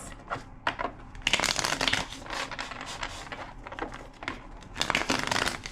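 A deck of tarot cards is shuffled repeatedly, with bursts of riffling and flicking in uneven rhythm and brief pauses between shuffles.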